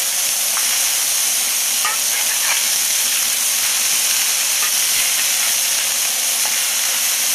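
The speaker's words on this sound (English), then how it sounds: "it's time to flip these burgers" Smash burgers sizzle steadily on a hot griddle, a dense, constant frying hiss with a few faint scrapes and clicks as the patties are flipped.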